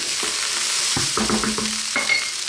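Rice crackling and sizzling as vegetable fried rice fries in a hot pan, a busy close-up hiss with a few scraping stirs and utensil taps.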